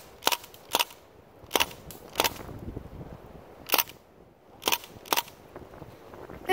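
Crosman BB gun fired in semi-auto, sharp close snapping shots in irregular single bursts, about eight cracks spread over several seconds with quiet pauses between.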